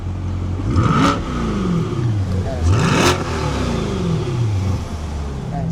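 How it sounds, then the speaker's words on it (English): A 2023 Chevrolet Corvette C8 3LT engine revs hard inside the cabin, rising twice in pitch with loud sweeping surges before easing off, steady road and engine roar throughout. "we're on throttle in the 2023 3LT C8 with Joseph."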